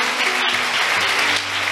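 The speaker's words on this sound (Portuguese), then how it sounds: "Aplauda Ele." A church congregation applauding during a Portuguese-language worship service, dense steady clapping from a crowd filling the room at full volume for under two seconds.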